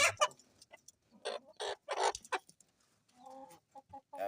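Hungry chickens on a small poultry farm cluck in short, close bursts, a run of loud choppy squawks followed by quieter rhythmic clucking, with no voices.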